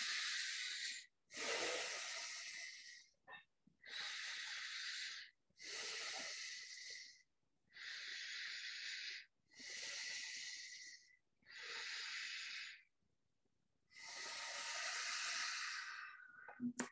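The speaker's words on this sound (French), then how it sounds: "grande respiration ici" Deep, slow breaths taken in a yoga backbend stretch with hands placed behind and chest opened, eight long airy hissing inhales and exhales in a steady rhythm, each separated by a short pause, close and alone.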